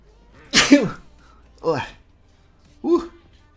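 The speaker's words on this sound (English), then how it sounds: "Oh, big sneeze." Three sneezes, each a sharp breathy burst with a voiced edge, spaced about a second apart and close up, with quiet room between them.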